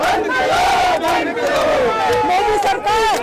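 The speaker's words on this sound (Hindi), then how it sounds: "ये सभी भाजपा विरोधी नारे लगा रहे हैं।" A dense protest crowd of Congress workers outside a Raj Bhavan shouts anti-BJP slogans in loud, overlapping voices, a continuous chanting roar with rising and falling cries and no pauses.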